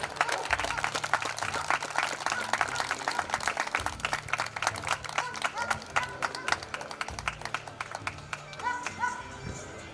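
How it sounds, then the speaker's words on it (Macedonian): Crowd applause at a Macedonian Karaman shepherd dog show, steady dense clapping for several seconds that thins toward the end, with a low rumble of voices and movement underneath. "го замолувам со голем аплауз да го поздравите идниот председател на клубот Илија Каров."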